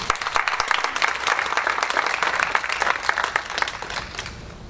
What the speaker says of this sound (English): let's have a round of applause for Chris.